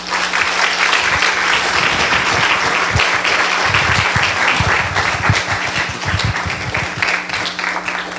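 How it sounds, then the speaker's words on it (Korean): A church congregation applauds warmly as a visiting pastor comes up to the pulpit, a full, even roar of many clapping hands sustained loudly from start to finish, with a low hum beneath. "우리 유진원 목사님 올라오실 때에 우리 코너스톤의 따뜻한 박수로 환영하겠습니다."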